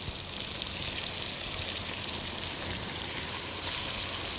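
Beef for Mongolian beef frying in hot oil in a wok, a steady dense sizzle that stays loud and close throughout with no voices.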